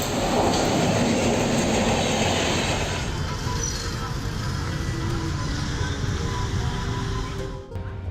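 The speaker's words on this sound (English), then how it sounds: "As the train rushed by" A train rushes past close by, a loud roaring whoosh with rattling wheels that gradually eases, then cuts off abruptly near the end.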